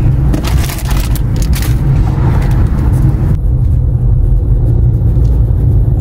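A car drives in heavy traffic on the way to Toronto, a steady loud low road rumble and engine drone with no pauses.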